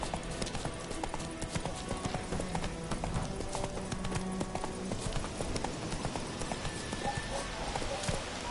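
Roach the horse's hooves clip-clop steadily through a forest in The Witcher 3, a continuous rhythmic trot that runs the whole way under a busy game soundscape.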